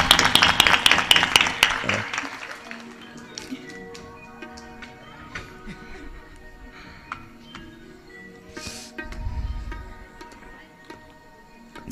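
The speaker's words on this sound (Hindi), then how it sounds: "उनके लिए एक बार जोरदार तालियां हो जाए" Devotees at a Bhagwat Katha in Lasalgaon break into loud, dense clapping for about two seconds. The applause then fades quickly into a quiet hall with scattered small taps.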